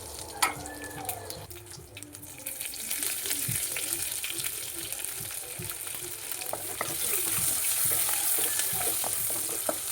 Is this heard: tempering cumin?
yes